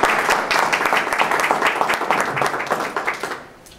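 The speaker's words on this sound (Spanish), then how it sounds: "demos la bienvenida al licenciado Luis Juárez con un fuerte aplauso" An audience at a lecture gives loud, sustained applause to welcome a speaker, a dense crowd of clapping that fades out near the end.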